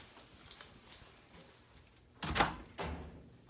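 Hotel room door being opened, two fairly loud clunks from the latch and door swinging, preceded by quiet room tone.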